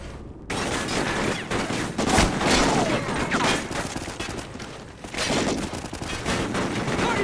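Gunfire from a Call of Duty Ghosts battle: loud, dense bursts of automatic weapons fire crackle almost continuously after a short quiet start, with sharp shots layered over a thick roar.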